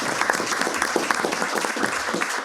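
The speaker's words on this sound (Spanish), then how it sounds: "Quiero que le demos un gran aplauso a nuestro escritor amigo Pedro Cayuqueo" An audience gives a big round of applause for Mapuche writer Pedro Cayuqueo, dense and lively clapping that stays loud and close for the whole stretch, with no talking over it.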